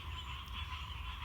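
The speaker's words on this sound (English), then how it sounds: "Probably billions of frogs living there." Frogs croak in a dense, steady chorus at a summer pond in a garden, a continuous throbbing drone with no voices.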